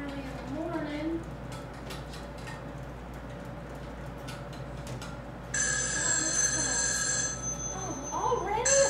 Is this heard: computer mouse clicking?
no